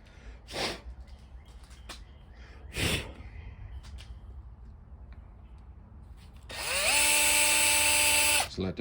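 The wiper motor from an 89 Jeep Grand Wagoneer spins up near the end with a loud, steady high whine after being cleaned and oiled, preceded by a few sharp bursts of spray and handling noise.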